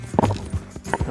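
Horse hooves clip-clop in the Red Dead Redemption 2 video game, a short burst of a few close, distinct hoof knocks in quick succession.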